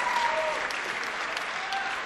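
Wrestling crowd at a Ring of Honor women's match in Lowell, cheering and applauding in a steady, dense roar with scattered whistles and shouts throughout.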